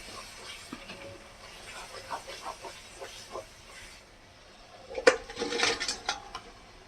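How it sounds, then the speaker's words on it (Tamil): Crab pieces salted with turmeric dropped into sautéed masala in a pan, a brief clatter and sizzle burst after quiet, faint pan clinks and stirring. "நம்ம மஞ்சள் உப்பு போட்டு வச்சிருந்த நண்டை எடுத்து இந்த மசாலாவில் போட்டுக்கலாம்."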